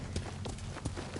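Horse hooves pound in a quick, rhythmic clip-clop gallop from Ghost of Tsushima, close and steady across a short burst.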